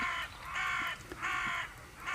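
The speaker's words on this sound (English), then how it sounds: "Listen to these crows." Crows caw on a dewy morning in Bristol, giving three loud, harsh calls at roughly even intervals. The calls carry over a steady outdoor background hiss.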